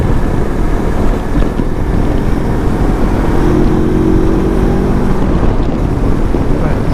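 A Lifan KPT 400 motorcycle fitted with a 43-tooth rear sprocket runs at low RPM on the interstate, a continuous engine drone with a faint rising tonal hum beneath steady wind rush.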